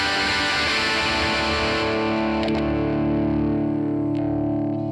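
Electric guitar played through a ToneX modeler set to an original Tweed amp model with a 4x10 cabinet, one dense, gritty strummed chord ringing out and slowly decaying, loud and alone without talk.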